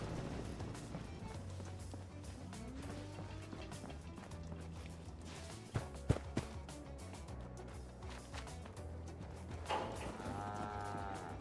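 A brahmin cow in the Fallout 4 video game moos in drawn-out low calls, several times over a busy background of game sounds and footsteps, fairly close.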